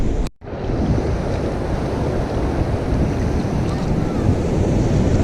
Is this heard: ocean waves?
yes